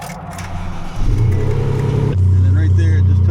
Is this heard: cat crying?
no